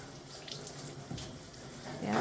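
Water poured over a body during Islamic ritual washing (ghusl), a faint, steady trickle and splash like a running tap that swells louder at the very end.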